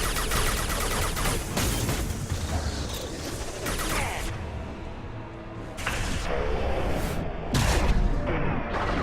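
Heavy gunfire in the Mass Effect 2 video game aboard the Collector cruiser, a dense loud fusillade of rapid shots and impacts that rarely pauses, sometimes swelling in bursts.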